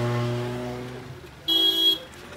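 Road traffic on a mountain route toward snowy country between Haridwar and Yamunotri, with a steady vehicle hum and a sustained car horn blast sounding loudly for about half a second near the end.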